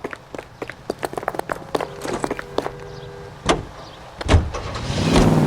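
Footsteps, door clunks and a car starting up in the video game LA Noire, with scattered close thuds and clicks before an engine swells and the car pulls away near the end.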